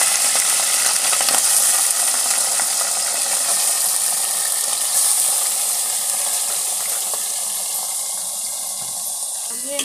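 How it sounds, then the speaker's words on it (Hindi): Mutton pieces and masala added to hot oil for yakhni pulao, a loud, continuous close-up sizzle and crackle of frying that holds steady throughout and eases slightly toward the end. "और ये जो गोश्त है गोश्त हम ऐड कर देंगे।"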